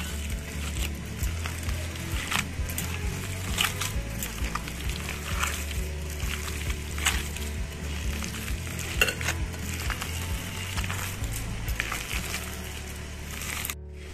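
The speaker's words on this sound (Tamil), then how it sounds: "கொஞ்சமா பிரெட் க்ரம்ஸ் ஆட் பண்ணிக்கோங்க. நல்லா மிக்ஸ் பண்ணிக்கோங்க." Chicken burger mixture being mixed with bread crumbs in a bowl, giving a continuous moist squelching and scraping texture with a steady low rumble, fairly close and without talk.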